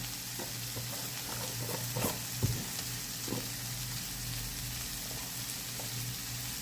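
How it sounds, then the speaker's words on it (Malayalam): Spices and grated coconut sautéed in a pan, a soft steady sizzle with a few spatula scrapes and light knocks, close and fairly quiet, no speech. "നമുക്ക് ആവശ്യത്തിന് തേങ്ങ ഇട്ട് നല്ലതായിട്ട് വഴറ്റിയെടുക്കാം."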